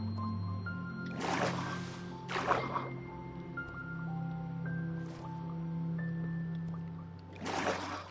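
Waterfall water in Minecraft: wet splashing and squishy bursts recur several times over a continuous low watery rumble, with faint tonal game sounds scattered between them.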